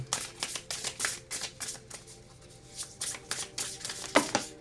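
Tarot cards are shuffled by hand in quick, rhythmic riffles and slaps, close up, continuing in bursts with a short lull midway and no speech.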